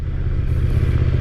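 Engine of a 2023 KTM 1290 Super Duke GT during a ride, a loud, steady low rumble up close with wind noise and no talk.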